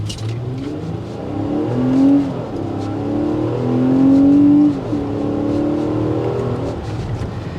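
A 2023 Infiniti QX60 Autograph engine revs up and down in surges, pitch climbing and dropping between paddle-shifted gear changes, loud and close throughout.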